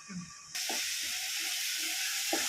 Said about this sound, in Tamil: தக்காளி போட்டு நம்ம நல்லா வதக்கிக்கலாம் தக்காளி போட்டாச்சு நம்ம இப்போ மூடி போட்டு வச்சுருக்குறோம்